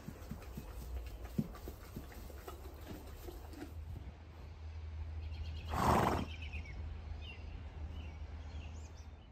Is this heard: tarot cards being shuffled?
no